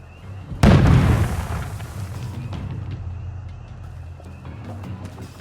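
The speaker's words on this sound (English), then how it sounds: "Grenade!" A grenade goes off with one loud, close boom in the video game We Happy Few, then rumbles and fades under a low background of game noise.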